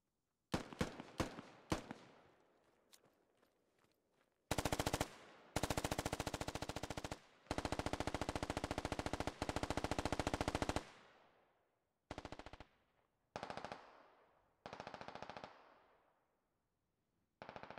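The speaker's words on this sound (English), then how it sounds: "A lot of suppressing fire going out." Suppressing fire in the tactical shooter Squad: a few sharp single shots, then long loud bursts of automatic gunfire separated by short gaps, close and forceful, with no talking.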